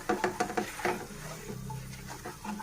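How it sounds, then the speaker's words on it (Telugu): Soya chunks (meal maker) fry and get stirred in a pan for a kurma curry, giving close, irregular scraping and clattering bursts over a steady low sizzle. "ఇలా బాగా వేయించుకోవాలండి"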